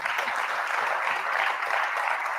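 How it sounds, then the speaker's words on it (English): Live awards-show audience applauding, dense continuous clapping from a crowd filling the room, loud and steady throughout. "So y'all give yourself a round of applause."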